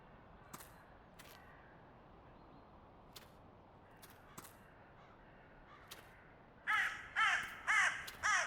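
Faint scattered clicks give way to a run of four loud, harsh crow-like caws from a bird in the horror video game The Cursed Forest near the end, close and rhythmic.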